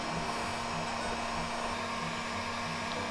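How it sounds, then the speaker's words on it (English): A heat gun blows a continuous, even roar of hot air while melting wax into the fabric fibers of a tin cloth vest, with no talking. "Really heat that wax up and press it into the fibers."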